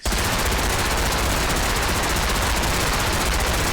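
A laser minigun in Fallout New Vegas VR fires in one continuous, very loud rapid stream, a dense buzzing rattle filling the whole stretch with no pauses and no voices.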